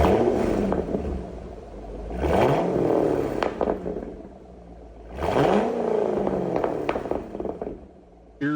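A Ford Mustang with stock exhaust and a Corsa axle-back rumbles at idle, then revs up loudly twice, each rise climbing and falling back to a steady burble, close by with no talk.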